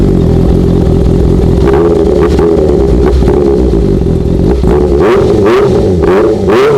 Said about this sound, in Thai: อ่ะเดี๋ยวเรามาฟังเสียงท่อรถกันเลย